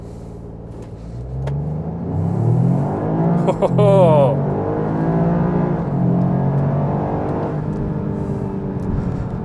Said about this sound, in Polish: Auto przyspiesza po prostu nieziemsko i również udźwiękowienie tego samochodu, biorąc pod uwagę, że mamy trzy cylindry, jest naprawdę fantastyczne.